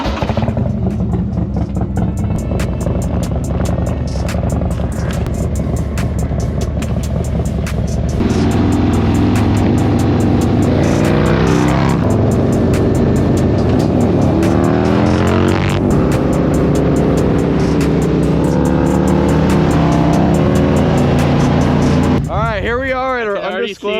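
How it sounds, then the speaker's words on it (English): A cammed and tuned 2024 Harley-Davidson Road Glide and a cammed Dyna accelerating hard: a loud, continuous engine roar with rising pitch through repeated gear pulls and a final rapid rev, heavy wind rush throughout. "I'm gonna hop back on Juan's Dyna and Cole is gonna ride the 24."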